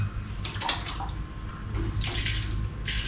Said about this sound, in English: I think I want to add just a touch of water.